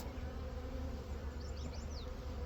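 A steady insect buzz of honeybees humming close by, continuous and even, over a low background rumble.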